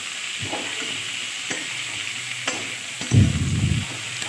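Potatoes and spring onions get stirred in a sizzling pan, with a soft steady frying hiss and a few light scrapes and taps of the spoon. A louder stirring scrape comes near the end.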